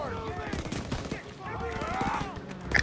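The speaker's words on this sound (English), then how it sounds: "MG's in the barn." Machine gun fire rattles from a barn in Call of Duty: WWII, with rapid shots mixed with distant battle noise and a voice heard in the chaos.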